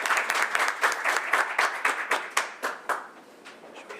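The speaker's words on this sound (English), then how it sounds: "Now you can clap." A room of people at a board meeting claps, a ragged burst of applause from a small audience that thins out into fewer, separate claps as it goes on.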